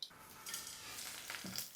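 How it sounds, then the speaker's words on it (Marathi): Onions frying in oil in a pan, a batch of a large quantity cooked at home for onion-garlic masala, giving a steady close sizzle with occasional stirring scrapes, alone without talk. "असाच झटकीपट सगळा कांदा आता तळतीये."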